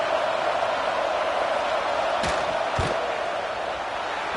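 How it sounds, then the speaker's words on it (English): Steady crowd roar fills a video game football stadium as the field goal team lines up, a broad constant murmur with two brief sharp thumps near the middle. "This crowd trying to do its part to get inside the kicker's head."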